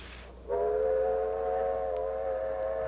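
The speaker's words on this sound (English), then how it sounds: "A distant blast of the whistle could be the call of destiny" A distant steam train whistle sounds one sustained, steady tonal blast after a brief hiss, holding clearly and alone against faint background noise.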